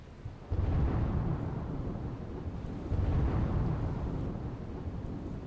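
Deep, rumbling thunder rolls over steady rain in a village in Gir Somnath, Gujarat, during the monsoon, two heavy booms swelling and fading beneath a continuous wash of rainfall.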